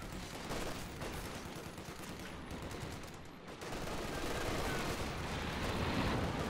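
Dense, continuous battlefield gunfire and distant explosions from a Company of Heroes 2 match as infantry run into a machine gun, a rough, crackling wash that swells louder after a brief dip.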